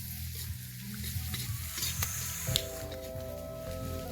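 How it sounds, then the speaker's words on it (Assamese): Tomatoes frying in a pan with meat, cooked at a New Year party, giving a quiet continuous sizzle with occasional stirring squishes, while a tonal musical hum joins partway through. "বিলাহী ভাজি আছোঁ, বিলাহীটো গুৰি হ'ব লাগিব, তেতিয়া দিব পাৰিম। মাংস ভাজি থোৱা আছে।"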